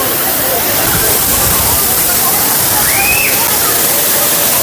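Rushing waterfall at Arslanbob, a steady, dense roar of falling water that fills the whole clip at close range with no break.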